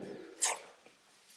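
A dog makes a brief, faint yelp or whimper in the background of a quiet indoor room, one short burst with soft rustling around it.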